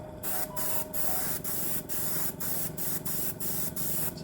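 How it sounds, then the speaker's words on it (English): Thinned undercoat paint hisses from a sprayer onto a model ship in a run of short, even bursts separated by brief gaps, steady and fairly quiet with nobody talking. "I've got this spraying really, really thin because I don't want a massive thick line on there"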